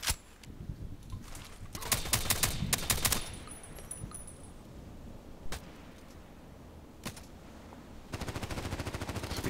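VSS Vintorez rifle fired in a shooter video game: clusters of rapid sharp shots early on, then isolated single cracks spaced apart, ending in another quick burst.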